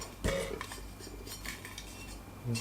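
Metal pots and lids from a Kathmandu Ascent Camp Cookset 4 pc are stacked together, giving a sharp clank at the start, lighter clatter and scraping in the middle, and another knock at the end.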